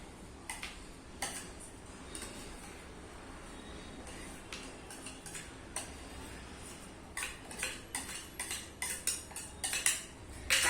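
A spoon mixes roasted flax seeds in a dish with quiet, irregular clinks and scrapes against the bowl, sparse at first and growing busier and louder toward the end, with no one speaking.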